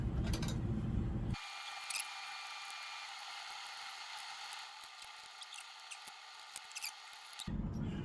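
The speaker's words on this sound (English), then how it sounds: "I might just start taking out some of these screws" Small clicks and faint mechanical ticks from a screwdriver working screws out of a delaminated Dodge car radio, quiet and close, with scattered sharp clicks over a low hum.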